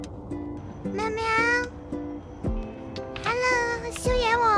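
A stray tortoiseshell cat meows repeatedly at close range, giving a series of rising, drawn-out calls with short gaps between them.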